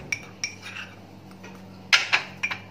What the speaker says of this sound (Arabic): وهنبدا نقلب المكون بتاعه